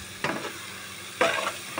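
Papaya pieces fry in oil while a utensil stirs them, giving two short bursts of scraping sizzle over a faint background hiss.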